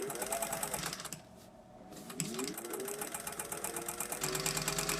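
A vintage Singer 201 sewing machine runs with a steady mechanical whir and rhythmic clatter, pauses for a second, then starts up again.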